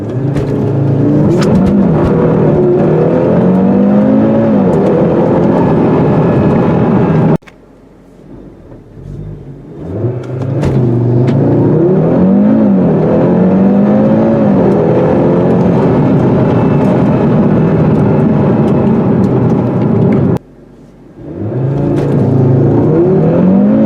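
A 2018 Audi TT-RS turbo in dynamic mode with traction control off accelerates hard, its engine roaring loud and rising through the gears in two long sweeps, each broken by a brief dip before pulling again.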